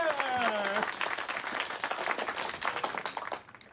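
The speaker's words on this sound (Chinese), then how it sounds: "掌声欢迎" An audience claps in a steady burst of applause that gradually thins and fades, with a brief voice at the start.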